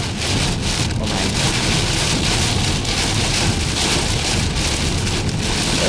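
Heavy rain pounds steadily on a car during a drive to Alabama, a dense continuous roar of drops on the roof and windshield with no gaps and no voices.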